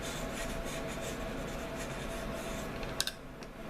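Small wedge notches being cut into an arrow shaft, heard as quiet, steady rasping and scraping strokes with a couple of sharp clicks near the end.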